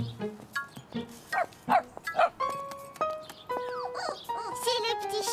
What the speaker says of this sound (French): C'est le petit chien.